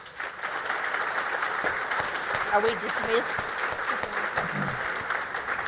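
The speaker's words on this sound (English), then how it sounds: "would you please give these three candidates a round of applause" A business conference audience applauds three candidates with steady, moderate clapping, while a few voices talk near the microphone over it.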